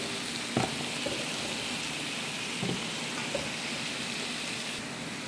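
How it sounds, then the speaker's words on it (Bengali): Pumpkin pieces frying in a pan for a pumpkin curry, a steady close sizzle with a few soft clicks and stirring knocks over the hiss. "এই যে কুমড়োগুলো দিচ্ছি, এগুলো ভালো মতো ভাজবো"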